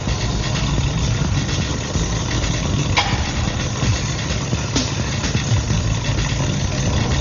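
An old Gladiator racecar engine idles steadily at a hill climb start line, a loud continuous rumble with a few faint higher sounds from the crowd area, no talking heard.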